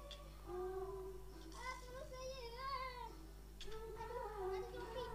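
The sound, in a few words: cat meowing in Minecraft, from a video game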